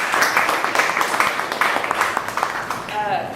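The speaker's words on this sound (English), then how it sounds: "can we give a round of applause" An audience at a community event gives a round of applause, a dense, continuous patter of many hands clapping that stays fairly loud for a few seconds before tapering slightly.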